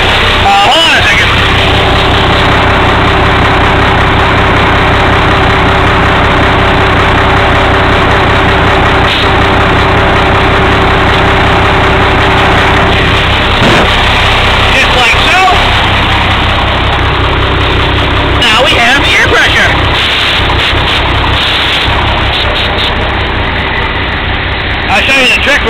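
A Bobcat skid steer engine idles loud and close, a steady low rumble that runs on unbroken while people talk over it.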